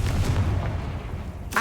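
A Confringo fire spell blast in the game Hogwarts Legacy: a loud, booming burst that rumbles and fades over a second or so, followed by a sharp second crack at the end, with no one talking.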